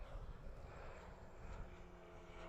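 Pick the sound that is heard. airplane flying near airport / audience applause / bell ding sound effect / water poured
airplane flying near airport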